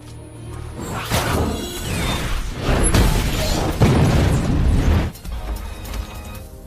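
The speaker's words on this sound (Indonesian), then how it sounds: "Frank pun menggunakan tabung oksigen untuk membuat ledakan" An oxygen tank explosion in a film scene: a loud burst of explosive noise and crashing debris rolls on for several seconds, then cuts off abruptly, leaving a quieter rumbling tail.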